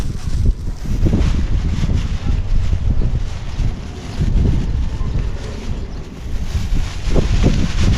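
Strong gusts of wind buffet the microphone outdoors, loud rumbling surges that rise and fall in waves across the whole stretch, with no voices.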